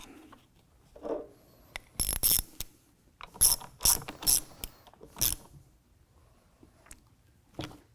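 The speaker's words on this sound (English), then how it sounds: "we'll install a washer on the inside and the locking nut" A ratchet tightens a locking nut on a Jeep soft top bow in short clicking bursts, some single and some in quick runs, close and distinct against near silence.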